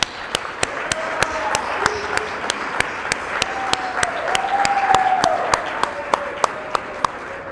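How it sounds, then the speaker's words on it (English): A crowd at a high school signing day applauds a player with steady, moderate clapping, punctuated by regular sharp clicks, while voices murmur beneath. "So give him a round of applause."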